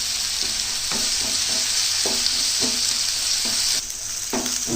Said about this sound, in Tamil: இஞ்சி பூண்டு பேஸ்ட் ஆட் பண்ணிட்டேன். அதையும் நல்லா வணக்குங்க வெங்காயத்தோட.